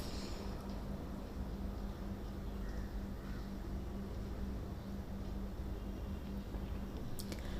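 Thick haleem being stirred as hot water is added little by little, a faint, continuous soft squishing and scraping under a low steady hum, with no speech.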